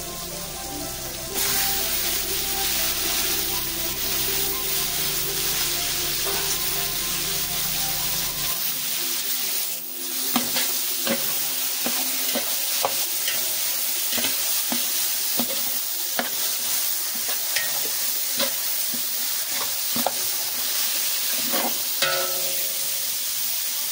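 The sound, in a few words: marinated chicken frying in pan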